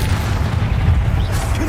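Bombardo blasting spell explosion in a Harry Potter video game, a loud, heavy low rumbling boom that rolls on continuously for under two seconds, ending with a rising hiss.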